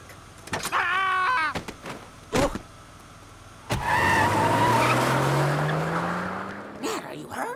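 A car drives and skids in The Simpsons Game on PS3, with a long tire screech and engine rising in pitch over several seconds, following cartoon voices and short effects.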